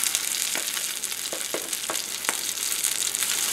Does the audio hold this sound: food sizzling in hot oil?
yes